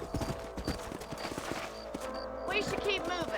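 A horse is ridden in Red Dead Redemption, its clip-clopping hooves beating a steady rhythm up close, with a voice speaking toward the end.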